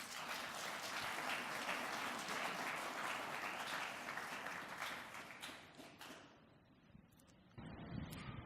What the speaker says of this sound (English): Give Anna a round of applause,